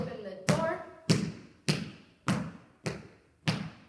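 Tap shoes striking a floor in a kids' tap class doing toe taps, six crisp evenly spaced clicks about half a second apart, each ringing briefly into the room.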